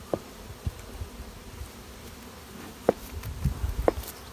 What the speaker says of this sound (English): This is the honey bees.